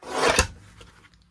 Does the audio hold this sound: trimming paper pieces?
yes